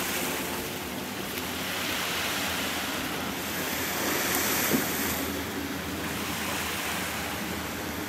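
Steady wash of ocean surf at a beach in North Naples, Florida, with broad rushing noise and some wind buffeting the microphone, continuous and moderately loud.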